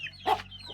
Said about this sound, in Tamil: எல்லா கோழிகளும் நம்மளை பார்த்தோன்னே சவுண்ட் விட ஆரம்பிச்சிருச்சு